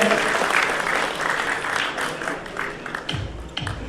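Sustained audience applause from a large crowd at a garba event in Rajkot, thick and continuous, thinning slightly toward the end with a couple of low thumps.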